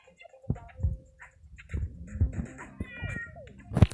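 A cat in the game PK XD meows a few times in short, close calls, with scattered clicks and light background sounds between them.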